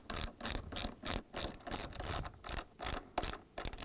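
A ratchet wrench clicks in quick repeated bursts while driving bolts on the upper door hinge of a Samsung refrigerator during a hinge cam riser repair. The clicking is close, crisp and rhythmic, with short pauses between strokes.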